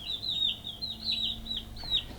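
Chickens in a brooder cluck and squawk in a busy, overlapping chorus, fairly close and continuous, with a faint low hum underneath.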